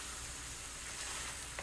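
Yemeni fahsa meat sizzles and fries in a pan over a fire, giving a steady, close hiss with faint stirring scrapes and no talking.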